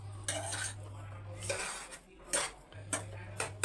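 Makhana powder, raisins and other ingredients for panjeeri laddu being mixed in a pan, a series of close spoon scrapes and metallic clanks against the pan in uneven bursts with short gaps.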